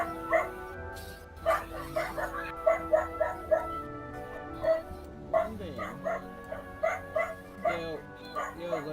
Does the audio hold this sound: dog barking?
yes